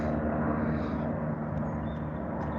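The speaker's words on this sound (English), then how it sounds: "Looks like the police helicopter." Aircraft engine drone passing overhead during an outdoor walk along an old railway path toward town, a steady broadband rumble holding loud and even throughout, consistent with a police helicopter flying above.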